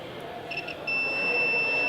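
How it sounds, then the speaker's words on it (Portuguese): A multimeter's continuity tester gives a short beep, then settles into a steady, clear tone held over a quiet background hiss. "Aquela que deu bip, pessoal, é aquela que está dando continuidade"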